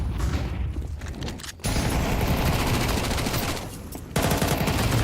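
Rapid gunfire in Counter-Strike on the Ancient map during a tournament match, dense automatic bursts and fusillades crackling almost without pause, loud and close with two brief gaps.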